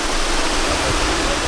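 Water runs inside a big water tank, heard from the top as a loud, steady hiss and rush with no breaks and no voices.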